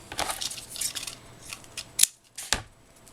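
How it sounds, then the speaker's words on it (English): Scissors snip through paper while a heart-and-scallop Valentine's card banner is being made, a run of quick close crisp cuts followed by two sharper isolated snips. "I have a pair of scissors for paper"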